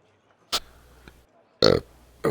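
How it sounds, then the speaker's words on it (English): A person burps after drinking coffee, two short loud belches about a second apart, with a fainter third starting at the end; the room is otherwise nearly silent. "This coffee is making me burp."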